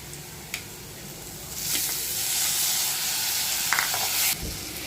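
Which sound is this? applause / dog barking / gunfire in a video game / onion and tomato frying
onion and tomato frying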